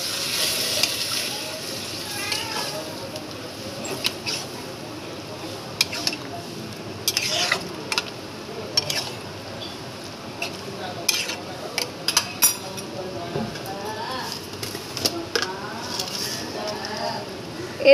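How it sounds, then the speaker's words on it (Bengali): Boiled dal is stirred in a pan with a spoon, producing irregular scrapes and clinks against the metal over a low background hiss, close by, with no clear talk. "এবার ভালো করে নাড়িয়ে চাড়িয়ে নিতে হবে"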